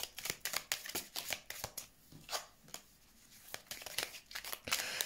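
Tarot cards shuffled for a reading: quick, crisp papery riffles and slaps in repeated bursts, close and fairly quiet.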